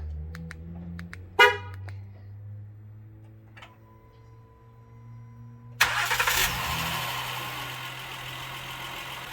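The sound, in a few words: 2015 Honda Pilot engine starting via remote start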